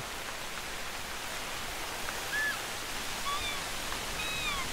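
Steady light rain hisses softly throughout, with a few faint high chirps from distant birds scattered over the constant wash.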